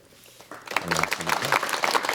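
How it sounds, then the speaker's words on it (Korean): A TV studio audience on a 1987 Korean talk show breaks into applause to welcome a guest, the clapping swelling from quiet to a steady, full round as a voice speaks briefly over the start. "여러분 박수로 맞이해 주시면 대단히 고맙겠습니다"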